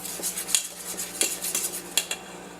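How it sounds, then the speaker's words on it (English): Cornbread dressing batter whisked in a bowl, a close run of quick metallic taps and scrapes against the bowl in an uneven rhythm, with sharper clinks every second or so. "And we're going to go kind of whisk that all around, get it all blended together."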